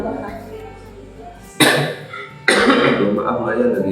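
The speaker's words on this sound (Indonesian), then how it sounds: "Maaf mbak ya lagi batuk." A man gives two harsh, loud coughs in quick succession, close by, the second followed by a rough throaty trail.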